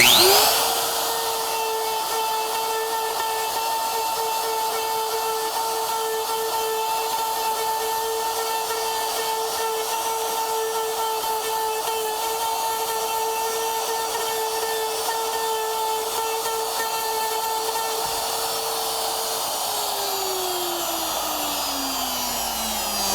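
A wood router runs steadily at a loud, constant whine as it cuts and throws sawdust, then spins down with a falling pitch near the end; no talking.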